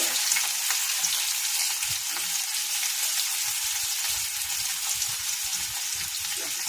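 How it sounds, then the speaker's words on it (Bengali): Onion and garlic fry in a pan as the base for a chicken stew, giving a loud, continuous close-up sizzle with faint low stirring knocks underneath and no speech. "একটু ভাজা ভাজা হতে থাক"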